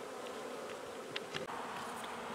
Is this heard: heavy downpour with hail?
no